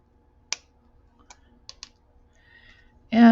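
Excess jewelry wire being snipped with cutters while finishing a beaded jewelry set: a few small, sharp clicks spaced over a couple of seconds in a quiet room, with a brief burst of noise at the end.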